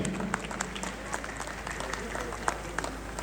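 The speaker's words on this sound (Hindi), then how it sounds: "भरपूर तालियां होनी चाहिए" A crowd at a gathering applauds, producing dense, steady clapping that runs the whole length at moderate loudness, with some voices mixed in.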